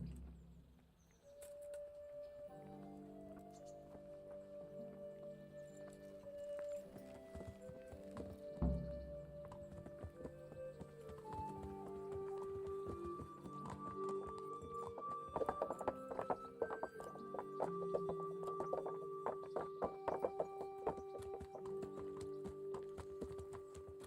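Horse hooves clip-clop in a steady rhythmic trot while riding in the medieval video game Kingdom Come: Deliverance, joined by a whinny, birdsong and a sustained musical score, the hoofbeats growing louder and more prominent toward the end.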